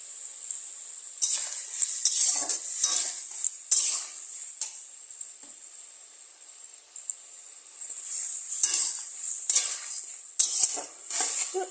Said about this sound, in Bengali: তো 1 মিনিট ফুটে যাক